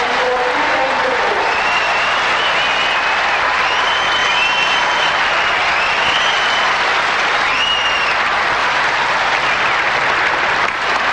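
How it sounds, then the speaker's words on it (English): Sustained, loud applause from a large stadium crowd at a women's tennis final at White City, Sydney, steady throughout with faint whistles riding on top. "And the applause rings round this great stadium at White City"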